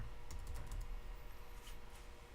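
Keys clack quickly on a computer keyboard during a Minecraft Feed The Beast session, a steady burst of close, crisp typing with soft background hum and no voices.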